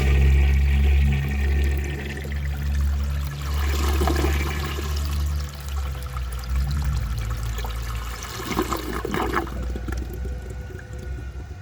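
A 1930 Eljer Sanus toilet flushing: a loud, continuous rushing swirl of water with gurgling and trickling that runs the full length, up close and with no talking.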